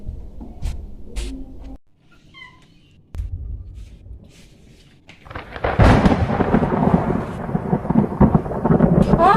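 Thunder before rain: low rumbling rolls come and go, then a heavier sustained roar of rain and wind builds and continues to the end, fairly loud with no voices.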